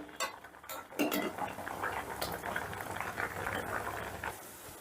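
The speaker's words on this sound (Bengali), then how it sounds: "এবারে আলুগুলোকে আমি একটা একটা করে তুলে নিচ্ছি" Potatoes are lifted one by one out of a pot of simmering yakhni stock, with a bubbling boil, clinks of a metal utensil against the pot and soft liquid splashes at close range.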